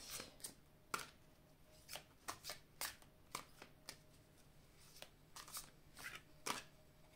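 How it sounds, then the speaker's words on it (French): Cards from a tarot-style deck are handled and drawn, heard as a quick series of crisp, close flicks and snaps at an irregular pace, soft overall in a quiet room. "je vais prendre une carte ici"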